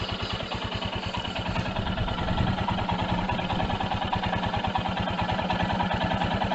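A Royal Enfield Himalayan BS6 motorcycle engine idles with a steady, even low thumping pulse, close and continuous, with light mechanical clatter and no voices.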